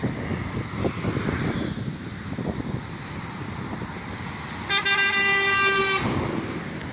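A loud, sustained truck air horn blasts for about a second over steady road and wind noise from passing traffic.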